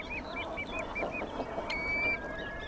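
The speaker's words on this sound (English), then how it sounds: "Many migratory birds rest up on the mudflat islands to stock up their energy reserves." Migratory shorebirds resting on mudflat islands give a quick run of repeated, evenly spaced calls, followed by one longer drawn-out note over a steady outdoor hiss, moderately distant.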